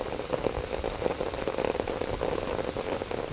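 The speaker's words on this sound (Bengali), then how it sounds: "অঝরে বৃষ্টি" Heavy monsoon rain pours down steadily during the wet season, a dense, even hiss of drops drumming on surfaces, close and continuous with small crackling spatters and no voices.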